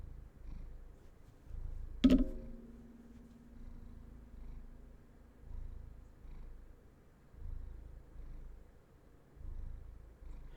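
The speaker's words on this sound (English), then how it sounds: "I happen to have White Cat here with me. So, and he is happy" A white cat purring softly and close, a low rhythmic rumble rising and falling with each breath, with one brief sharp sound near the start.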